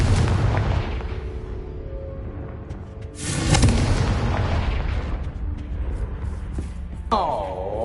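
Confringo fire spell explosion in the video game Hogwarts Legacy, a loud booming burst midway through a dense stretch of rumbling game combat noise, with a shorter pop near the end.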